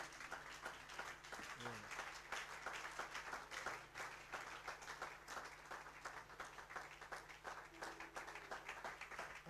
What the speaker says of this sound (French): Acclamer Jésus maintenant.